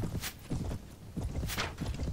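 Armored horse hooves clip-clopping in the game Mount & Blade, a steady rhythm of soft thuds at a walking pace, moderately close and fairly quiet with no voices.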